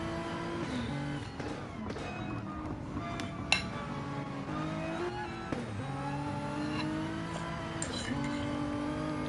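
Race cars run wheel to wheel around the Nordschleife in a racing video game. Engines whine steadily through gear changes, with rising and falling pitch and the odd faint clink, heard from inside the car.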